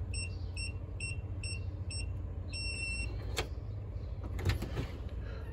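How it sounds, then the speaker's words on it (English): A series of short electronic beeps from a Wi-Fi smart door lock repeats in quick succession, followed by a longer steady beep, fairly faint over a low background hum. "you should actually hear it blink, or hear it beep, right?"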